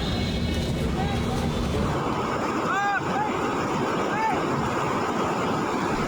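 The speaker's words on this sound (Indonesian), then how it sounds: "Inilah momen saat sebuah truk terseret banjir bandang di aliran Sungai Gung" Flash floodwater on the Gung River in Tegal, Central Java, sweeps a truck downstream. It makes a loud, unbroken rushing roar from start to finish, with a few brief high tonal calls rising faintly above the torrent.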